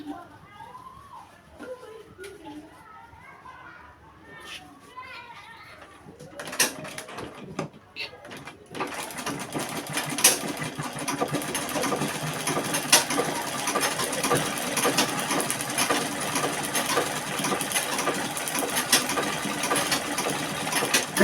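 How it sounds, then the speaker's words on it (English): A sewing machine runs steadily, stitching gathered fabric for a bustier crop top. The motor starts partway through and then hums continuously and fairly loudly to the end, after a quieter opening with a voice talking. "Then I'm going to start sewing"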